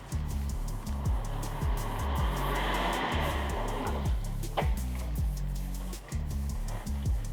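Diesel Mercedes G400d Adventure Edition crawling off-road on road tyres with locking differentials engaged: a repeated, uneven engine and drivetrain chug with rising and falling revs, heard at a moderate distance with some outdoor noise.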